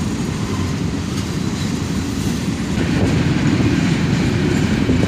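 A long freight train of dull gray covered hoppers rolls past close by, a loud, steady rumble of wheels and cars with rhythmic clatter.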